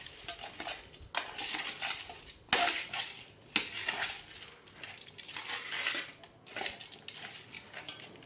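A spoon scrapes and clinks around a bowl as churmuri snack ingredients are mixed, a continuous rustling stir with several sharper metallic knocks, close and fairly loud.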